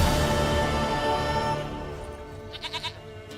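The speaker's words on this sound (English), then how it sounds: "ले तेरी बकरी आ गई।" A goat in The Witcher 3 video game gives a short series of quick, faint bleats, heard after a fading swell of game music.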